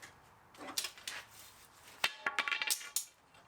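A metal clamp is pulled off a straightened floor panel on a Mustang GT parts car, giving a few sharp metallic clanks and clicks with softer scraping between them, fairly close and alone.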